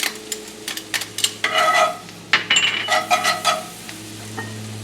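Minced garlic and diced shallot frying in a hot cast iron skillet, with a steady sizzle and bursts of stirring and scraping close by, and no talking.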